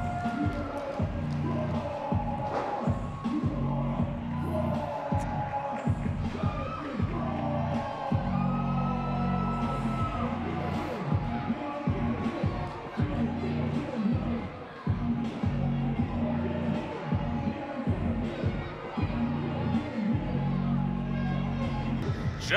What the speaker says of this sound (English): hearing it from the fans cheering into Waterford